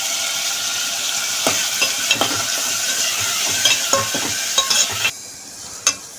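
A ladle stirs a village-style curry of dry prawns and cucumber as it sizzles in the pan, with a steady fry hiss broken by scattered scraping clinks.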